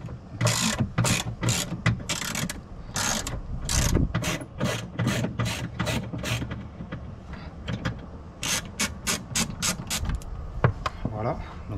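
Torx 20 screws being undone by hand with a ratcheting key on the trunk trim panel of an Audi, producing a steady series of sharp, close clicking ratchet bursts with brief pauses between turns.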